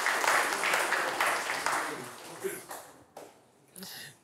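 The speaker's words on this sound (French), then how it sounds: "Merci de l'applaudir." Studio audience applause on a French game show, a dense burst of clapping that is loud at first, then thins and fades out in scattered claps toward the end.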